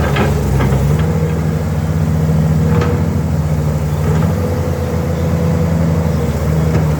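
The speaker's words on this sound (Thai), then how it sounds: "เครื่องยนต์มิตซูบิชินะครับสำหรับรุ่นนี้พี่น้องมา์คซิก หรือว่า YN10 นะครับ ร้อยสี่สิบห้าพลังมานะครับ" A Kobelco SK200-6 excavator's six-cylinder Mitsubishi diesel, 145 horsepower, runs at a steady low rumble close by, a continuous hum with no speech over it.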